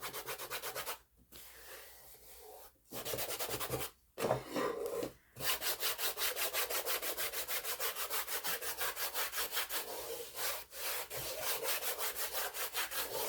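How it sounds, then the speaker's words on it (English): A cloth buffs wax on a wooden Americana home decor sign in rapid, rhythmic rubbing strokes. The strokes are close and loud, with a few short pauses between bursts. "if you still feel a little tackiness from the wax, you just need to buff some more"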